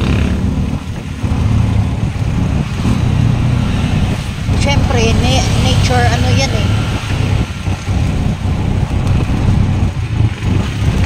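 A road packed with tricycles, motorcycles, cars and dump trucks passes steadily with a continuous low engine rumble, plus occasional louder passes and a brief horn-like tone, while someone talks over the traffic.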